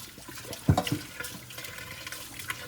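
Water splashes and trickles briefly into a single kitchen sink while a pot is rinsed, with a few close clatters and drips, fairly quiet with no one talking.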